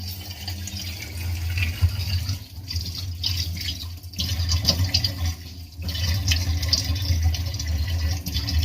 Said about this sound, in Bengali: এখন বাড়িতে মুখাতে একটু জল দিই